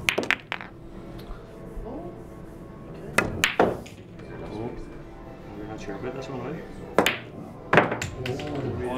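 Sharp clacks of a cue striking balls on a pool table ring out a few times, with a loud knock near the start and several more later, under casual talk between players.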